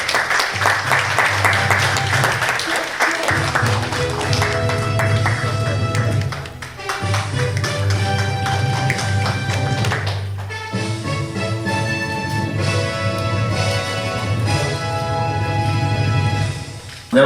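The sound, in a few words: audience applause at an award ceremony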